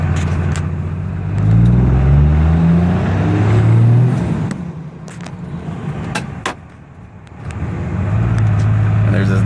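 Car fitted with an HE351VE turbo accelerating on a drive test, engine droning and swelling through two strong pulls with a dip between, rising again at the end, heard from inside with occasional clicks.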